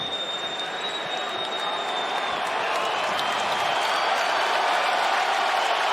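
A UFC fight crowd applauding and cheering after a competitive round, a dense, loud, sustained roar of clapping and voices filling the arena.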